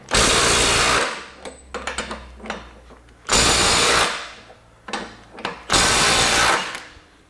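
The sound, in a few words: Milwaukee M18 compact impact wrench loosening tightened nuts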